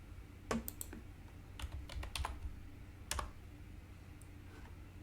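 Typing a Stata command on a computer keyboard: irregular bursts of crisp key clicks, a few louder keystrokes among quicker light taps, close and alone without speech.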